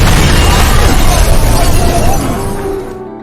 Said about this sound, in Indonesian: kendaraan saling bertabrakan hingga memicu sebuah ledakan